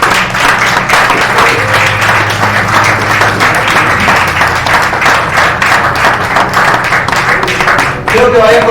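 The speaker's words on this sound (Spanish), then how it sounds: "Den un aplauso fuerte al Señor." A church congregation applauds loudly and continuously, a dense wash of clapping with a low sustained tone underneath and some voices mixed in.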